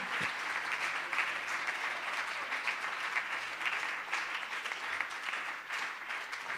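Sustained applause from a church congregation, a dense, even wash of many hands clapping at steady loudness throughout, with a faint voice near the start.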